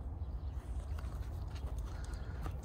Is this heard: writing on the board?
no